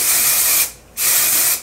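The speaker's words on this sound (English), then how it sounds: "I'm gonna use a little bit of a texture spray from Kenra." Kenra texture hair spray sprayed in two close, loud bursts of aerosol hiss with a brief pause between them.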